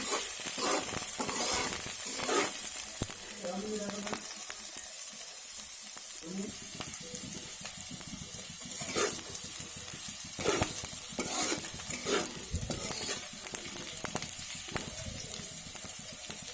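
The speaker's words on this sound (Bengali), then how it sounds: "পেঁয়াজটাকে লাল করে একটু ভেজে নিতে হবে" Two small chopped onions fry in a pan for an egg khichuri, giving a steady sizzle with repeated scraping strokes as they are stirred. A quiet gap comes partway through before the stirring picks back up.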